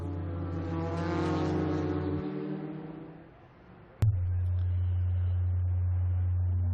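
F-2000 open-wheel race cars at Lime Rock Park, engines droning and revving loud and close, fading briefly before a sharp bang and a renewed steady engine roar.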